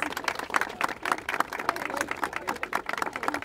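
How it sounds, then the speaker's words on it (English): An audience at a Capitol Hill press conference applauds, a modest, moderately distant patter of many hands clapping steadily with no voices rising above it. "Give them a round of applause."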